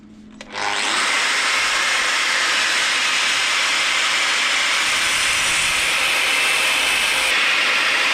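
Welding a repair onto the frame of a 1997 Suzuki RM250 motorcycle, a steady loud hissing crackle that starts abruptly after a short pause and runs on unbroken, close and alone.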